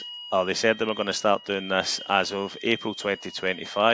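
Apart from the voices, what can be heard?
fire alarm going off in the building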